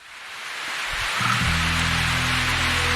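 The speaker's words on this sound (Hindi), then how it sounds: "तभी अचानक से बारिश होने लगती है" Steady rain begins falling in a forest, building quickly from a soft hiss to a dense, continuous downpour with a low rumble underneath, no voices present.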